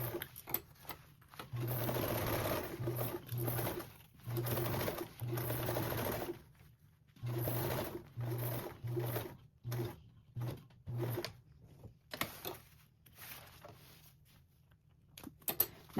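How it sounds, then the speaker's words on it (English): Basting a duffle bag seam along its bottom edge, a sewing machine runs in many short, quiet bursts with frequent pauses as the fabric is guided along. "We can baste along this bottom edge with a 1/8 seam allowance"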